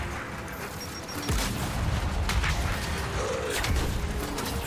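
A grenade blast in the Gears of War shooter game: a loud boom lands after the first second, followed by sustained rumbling debris and gunfire-like crackle that holds steady to the end.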